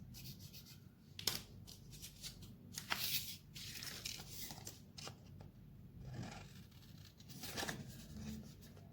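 Scissors cut a rectangular piece for a handmade bookmark: a series of close, crisp snips and rubbing rustles in uneven rhythm, with no talking.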